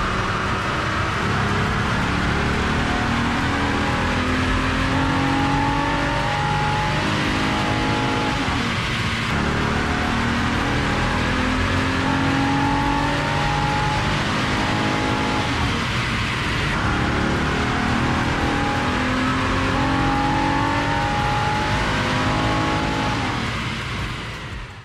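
A Honda car engine fitted with an AEM drop-in air filter revs hard on a dyno, a loud continuous run that climbs and drops in three sweeping pulls, close and alone with no talk.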